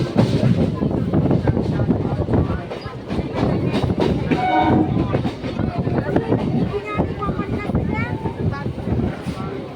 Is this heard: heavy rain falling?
no